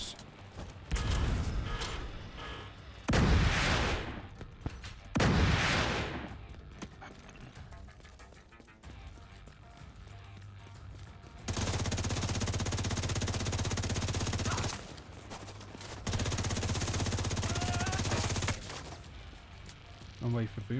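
Mortar fire during a team raid in The Division 2 video game, heavy booming blasts and long roaring bursts of explosive noise, loud and close, interleaved with quieter spells and players talking over voice chat.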